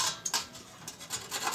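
Carrots rubbed against a metal grater make quick rasping strokes, a handful of short scraping bursts with light metallic clicks, close and fairly quiet with no talking.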